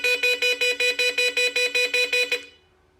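A modified JuicedBike horn/alarm fitted to a Super73 e-bike sounds a rapid series of about a dozen loud, piercing electronic beeps in a steady rhythm, close by, then stops abruptly.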